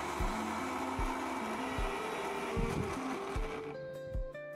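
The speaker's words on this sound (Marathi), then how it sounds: "आता ही एकदा आपण मिक्सरला फिरवून घेऊया।" A kitchen mixer grinder whirring through raw mango paste, a loud steady motor drone with pitch wobbles, slowing and shifting near the end, with no talking.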